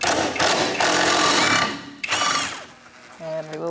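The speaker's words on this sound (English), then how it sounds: "Now we're going to go for this bolt here to remove this bracket. You're going to use a 10 millimeter with an extension." A ratchet with a 10 mm socket on an extension working a bracket bolt on a 2000-2006 Mini Cooper during a rear parking brake cable job. Dense, loud mechanical clatter comes in bursts, then tapers into quieter clicks and tones near the end.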